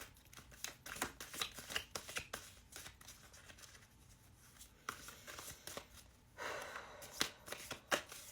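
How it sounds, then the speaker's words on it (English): Soft, close shuffling of tarot cards, a steady series of quick riffling flicks and slaps repeating throughout at low volume. "I'm shuffling the cards"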